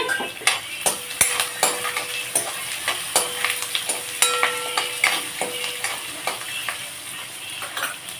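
Onions and curry leaves frying in a pan for brinjal masala curry: a continuous sizzle broken by frequent rhythmic scrapes and taps of a spoon against the metal pan, close and fairly loud.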